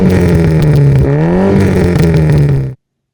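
A loud 2.4 litre Opel Manta rally car engine roars close by, its pitch dipping and rising as it revs, then cuts off abruptly into silence.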